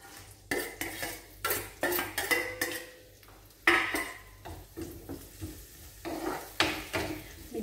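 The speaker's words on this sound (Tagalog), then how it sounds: "Ngayon ay isasalang ko na yung sibuyas." Onion being stirred in a pan with a metal utensil: repeated sharp clanks and scrapes against the cookware in an irregular rhythm, with a faint sizzle beneath, close and fairly quiet, no talking.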